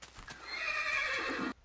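A horse in the Minecraft Technic Pack game lets out a single loud, drawn-out whinny lasting over a second, preceded by a couple of soft hoof clops, then cutting off abruptly.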